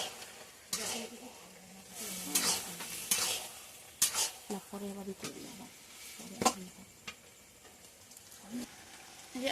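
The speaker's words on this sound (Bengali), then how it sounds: "আস্তে আস্তে জাল দিয়ে নাড়া দিতে হবে" Taro leaf curry is stirred in a pot over low heat: irregular scrapes and clinks of a spoon against the pan ride over a soft sizzle, with quiet pauses between strokes.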